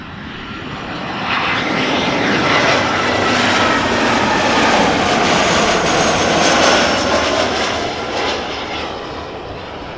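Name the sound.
business jet aircraft passing at Amsterdam Schiphol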